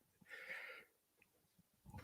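A single sharp sneeze bursts out near the start, followed by quiet room noise and a faint voice beginning at the end.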